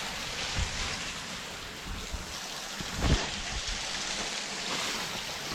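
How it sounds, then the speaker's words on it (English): Water from a frozen waterfall pours through the middle of an ice cave in Mohican State Park in winter, giving a steady, close rushing splash with a few louder gurgling surges. "Got waterfalls falling straight through the middle of the cave"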